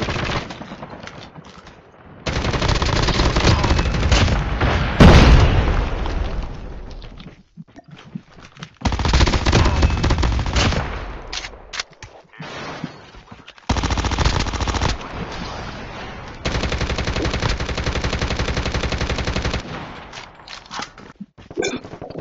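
Sustained automatic gunfire crackles in a crossfire in COD Mobile battle royale, with long, loud, close bursts broken by short pauses and one sharp louder shot.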